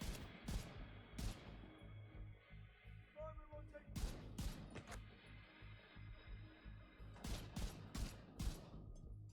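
M1A rifle firing in The Division 2, a series of sharp, spaced single shots with a steady rhythm over game music and ambience, with a person talking faintly in between.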